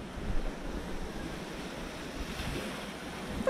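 Sea waves wash against a rocky beach in Marbella on the Costa del Sol, a soft, continuous surf rumble mixed with gusty wind buffeting the microphone.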